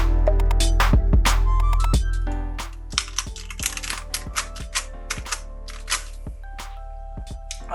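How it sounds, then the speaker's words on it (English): Keycaps pushed back onto a keyboard after cleaning: a string of sharp plastic clicks and snaps, irregular and close, after a louder rattling start, with no voices. "the last step is to put all of them back onto the keyboard"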